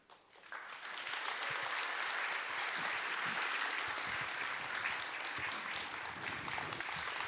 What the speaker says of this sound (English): A large round of applause for our amazing panel, Uncle Archie, Lori, Kim, Kaliko